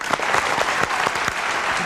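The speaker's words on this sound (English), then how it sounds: "another round of applause" An audience gives a musical quintet another round of applause, a full, continuous clatter of many hands clapping fairly loudly with individual sharp claps standing out, and no talking.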